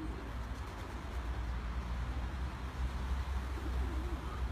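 Pigeons cooing outdoors under a grey, rain-threatening sky, soft low coos faint beneath a steady broadband background rumble, with no talking.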